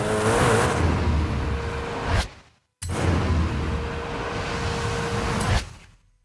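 A car in Forza Horizon 5 speeds hard in two sustained surges of engine roar and rushing wind, each ending in an abrupt cut, loud and close.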